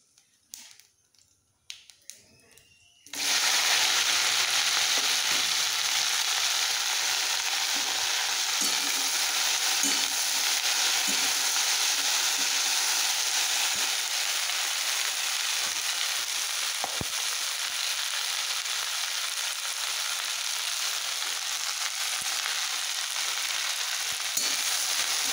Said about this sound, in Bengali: ভেন্ডিটা ভাজবো, ভেন্ডি ভাজলে রান্না কমপ্লিট আমার।